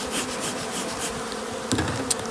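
Honey bees buzzing around production beehives, a steady close hum with a couple of brief knocks near the end.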